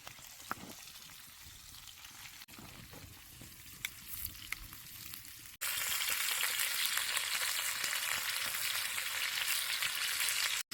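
Potatoes fry in pork fat with chilies and small tomatoes at a camp stove, a steady crackling sizzle that jumps suddenly louder and denser partway through, close and continuous with no talking.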